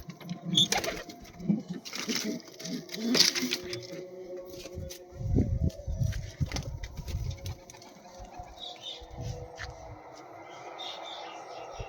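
Pigeons coo at a pigeon loft in low, repeated throaty calls, close and fairly loud at first, then fading toward a quieter stretch, with some scattered handling noise.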